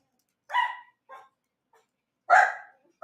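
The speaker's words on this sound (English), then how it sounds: "Those dogs, man, they're really going for it." Several dogs bark in short bursts, two loud barks framing a few quieter ones, with no talk over them.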